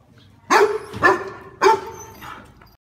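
A dog in a Roblox game barks in a quick run of three sharp, loud barks followed by a softer fourth, each short and clearly spaced.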